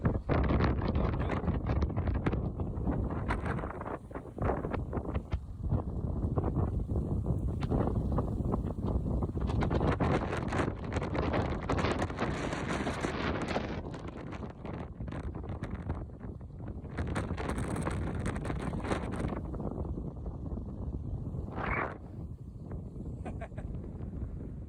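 Strong gusty wind of about 30 knots roars and buffets the microphone continuously on a canyon pathway near the Colorado River, with a voice faintly audible under the blustery rush.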